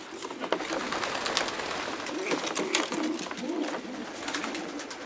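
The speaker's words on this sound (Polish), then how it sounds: "te białe gołębie no to są specyficzne" White pigeons coo in low, soft bursts against a steady wash of background noise, several birds murmuring repeatedly at close range in a pigeon loft.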